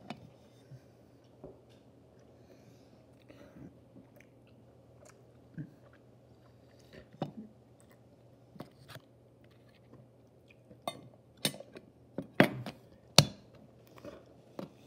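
Butterbeer gummies being chewed close to the mic, a sparse series of soft, sticky clicks and crunches that gets more frequent and louder toward the end over a quiet background.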